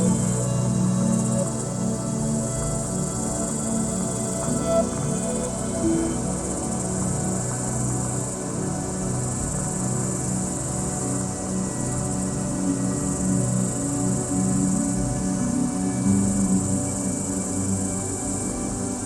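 Periodical cicadas (Magicicada species) fill the air with a dense, unbroken high-pitched drone. It is steady and loud throughout, with no voices.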